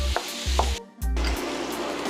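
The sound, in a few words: onion and garlic sizzling, stirred with wooden spoon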